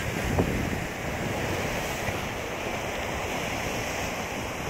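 Surf on a new beach in Hawaii, a continuous wash of breaking waves mixed with heavy wind buffeting the microphone, steady and fairly loud throughout without talking.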